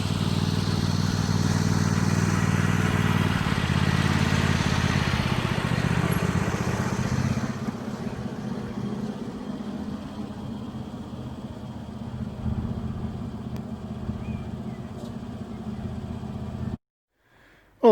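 A small red tractor engine runs steadily after a service with a new drive belt and gear belt, a dull mechanical chug that drops to a quieter idle midway and cuts off at the end.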